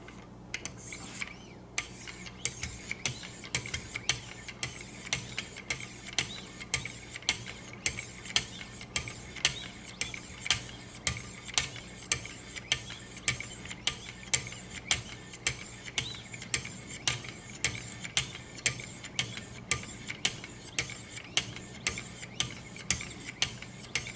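Benchmade 940 with M4 steel blade, blue carbon fiber handle, being sharpened on a Wicked Edge guided sharpener, a steady run of quiet, evenly repeated rasping strokes, close and soft, with no talking.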